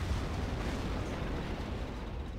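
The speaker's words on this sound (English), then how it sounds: "Oh, that was a nice big explosion." A big tank explosion in the online tank battle game Armoured Warfare, heard as a dense, sustained roar of broadband rumble that holds loud and even throughout.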